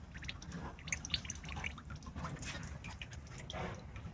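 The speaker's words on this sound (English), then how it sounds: "So I just opened the ball valve, and there you go. That's some of the grease that's coming out." Grease from beef ribs dripping out of the opened ball valve of a smoker, heard as a steady run of small close splashy drips and trickles with no talk.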